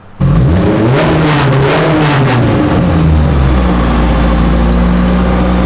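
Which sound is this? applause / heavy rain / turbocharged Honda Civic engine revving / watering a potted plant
turbocharged Honda Civic engine revving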